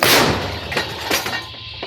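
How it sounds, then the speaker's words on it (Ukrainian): A sharp, loud artillery cannon shot opens the clip, followed by a couple of fainter booming reports and a decaying rumble. "Гармата. Постріл!"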